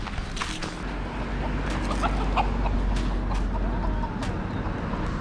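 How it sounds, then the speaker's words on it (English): A chicken or rooster by a road in Hawaii clucks in short bursts, moderately close, over a steady rumbling background like a passing car. "I almost just murdered that chicken."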